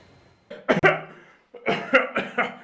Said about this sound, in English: I like that guy in the background there that you can hear coughing.